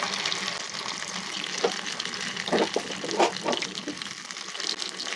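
Drumstick leaf pakoda frying in hot oil, a steady close crackling sizzle with a few louder bubbling bursts, no voices.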